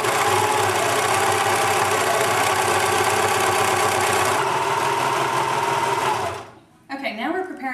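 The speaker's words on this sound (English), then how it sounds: "I'm simply going to feed it into the serger." A serger sewing machine runs steadily at high speed, stitching fabric layers for a decorative neon-edged baby blanket. The loud, continuous motor whir stops near the end, and a person begins talking just after.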